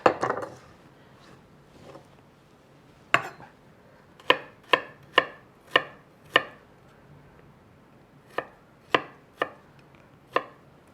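A knife chops garlic steadily on a cutting board, sharp knocks in quick bursts with short pauses between runs, close and clear with no talking.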